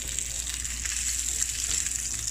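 Oil sizzling steadily in a pan as salmon fries for a sweet Thai chili dish, a continuous close hiss with no pauses and no voices.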